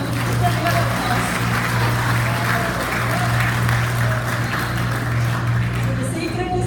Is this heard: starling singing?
no